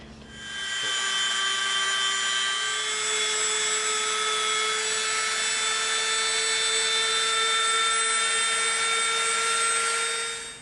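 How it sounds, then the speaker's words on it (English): A Dremel rotary tool runs steadily with a high, constant whine as it rounds the edges of EVA foam pieces, with a faint abrasive rubbing underneath and no talk. "we're going to come in with our Dremel, and we are going to round the edges of all these pieces"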